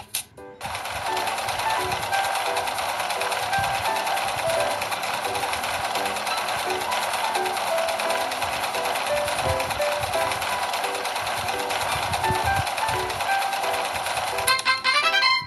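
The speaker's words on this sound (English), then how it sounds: "sew the jacket." A sewing machine stitches a small doll's jacket, running steadily and loudly at a fast, continuous mechanical chatter from start to finish with no talking.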